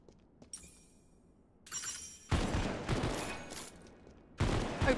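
Gunfire in a monster-fighting video game: short bursts of shots and a sharp crack, then loud sustained volleys that fade briefly before another heavy burst near the end.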